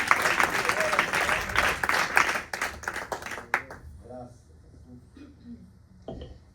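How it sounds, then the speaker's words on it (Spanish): A church congregation breaks into loud, steady applause that fades after a few seconds, followed by scattered claps and voices as it dies down. "Dele un fuerte aplauso al Señor."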